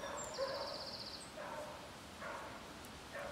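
Distant dogs yip and bark faintly across open moorland in the North Pennines, several short high calls spread out over a steady background hiss.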